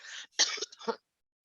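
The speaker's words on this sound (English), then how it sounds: "excuse my cough again" A quick burst of several short coughs, breathy and close, then silence.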